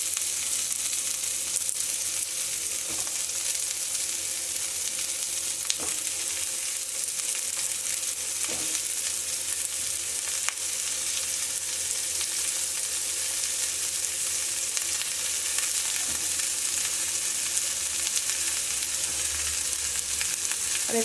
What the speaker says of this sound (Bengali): এতে সব সবজিগুলো একটা একটা আমি দিয়ে দেবো